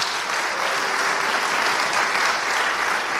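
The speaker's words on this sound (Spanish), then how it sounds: "Denle un aplauso al Señor Jesucristo, hermano." Church congregation applauding during an evangelical sermon, dense steady clapping from many hands at even loudness throughout, with no voices on top.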